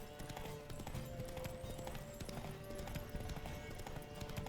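Rapid hoofbeats of a horse galloping steadily in a horse race in The Witcher 3: Wild Hunt, fairly quiet, with a dense rumble of other hooves and ambient noise.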